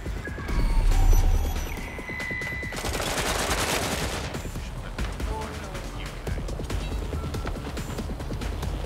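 Rapid gunfire bursts in the video game Watch Dogs: Legion, dense automatic shots rattling over roughly nine seconds, with a louder low rumble early on and game audio layered over a voice.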